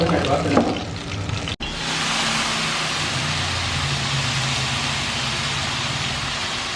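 Squash frying in a pan until well browned: a steady close sizzle that fills the clip, with some stirring at the start and a brief cut before the hiss carries on evenly.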